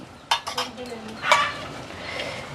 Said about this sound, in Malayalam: ഒരു പാത്രം അടുപ്പത്ത് വെച്ചു, വെളിച്ചെണ്ണ ഒഴിച്ചു